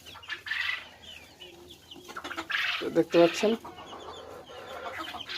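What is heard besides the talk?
Fayoumi chickens clucking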